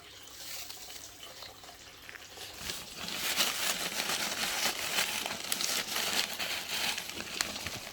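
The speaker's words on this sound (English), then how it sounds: "so I'll just put some perlite" Perlite is poured and pressed around a potted anthurium, giving a soft, continuous gritty crunching and rustling that grows denser partway through. It is fairly faint and close, and no one speaks.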